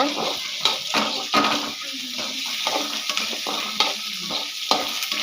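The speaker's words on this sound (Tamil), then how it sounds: "இப்போ இந்த வெங்காயத்தை நல்லா வதக்கிக்கலாம்" Onions being sautéed in a pan for a chicken gravy, with a steady sizzle and repeated scraping stirs of a utensil against the pan, close and fairly loud, with a faint voice in places.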